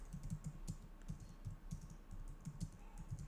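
Quick, light keystrokes on a computer keyboard while code is entered, a steady irregular patter of clicks close to the microphone with no talking.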